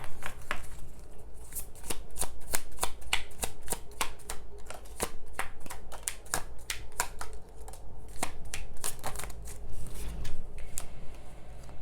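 Tarot cards are shuffled by hand in rapid, repeated riffling flicks and snaps, close and fairly loud, continuing steadily with no voice over them.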